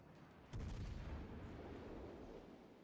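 Heavy naval gunfire in a warship video game as an enemy cruiser is destroyed: one sudden deep boom with a rumbling tail that slowly fades, alone with no talk.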